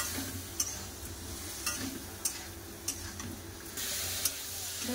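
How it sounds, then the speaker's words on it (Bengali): Spices being sautéed in a pan for a fish curry, a faint, even frying hiss with a few soft spatula taps spaced about a second apart. "এবার ভালো করে কিছুক্ষণ কষে দেবো।"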